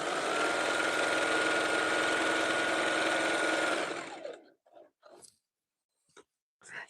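A sewing machine stitching fabric tubes for a jelly roll rug whirs steadily and loudly for about four seconds, then stops, leaving a few faint clicks and handling noises.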